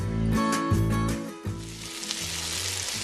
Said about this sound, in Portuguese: é a farofa de içá, feita no fogão a lenha